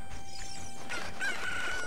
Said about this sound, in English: Good old chickens.